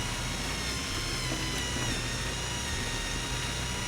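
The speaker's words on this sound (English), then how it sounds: "Look at the sparks flying off that drill" A mining drill runs in a video game, boring through rock with a steady, dense mechanical grinding whir that stays loud and unbroken throughout, with no voices over it.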